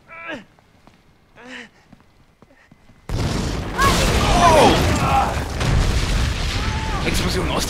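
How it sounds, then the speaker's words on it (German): A sudden loud explosion in the video game Army of Two: The Devil's Cartel cuts in after a few seconds of quiet, followed by a sustained roar of rumbling debris and noise. "Explosion aus dem Nichts!"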